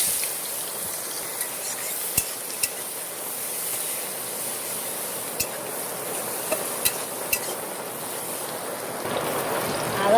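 Chopped onions sizzle in hot oil with bay leaves in a pan, a steady, fairly quiet frying hiss with a few faint clicks and pops and no voices.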